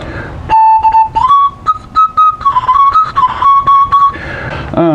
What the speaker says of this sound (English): The original prototype I made right here